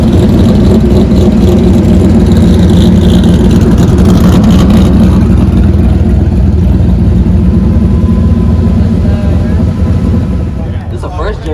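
A diesel engine runs loud and close with a continuous rumbling drone that holds steady throughout, while people talk nearby.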